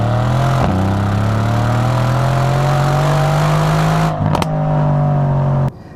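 A 2017 Mercedes-AMG C63 S Coupe in race mode holds a loud, close engine note that climbs steadily in pitch as revs build, with a brief dip mid-way, then cuts off abruptly near the end.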